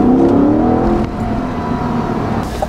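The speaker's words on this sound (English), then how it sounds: "That intake noise." A 2020 Chevrolet Corvette Stingray 1LT convertible pulls hard, its engine intake note rising loudly under acceleration before easing into a steadier, quieter drone.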